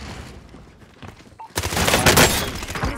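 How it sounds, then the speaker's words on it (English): A burst of gunfire in Call of Duty Warzone rings out after a quiet stretch, a sudden loud, rapid volley of overlapping shots from a close firefight that keeps crackling to the end. "Receiving hostile fire."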